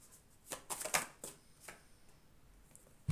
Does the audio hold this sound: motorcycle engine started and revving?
no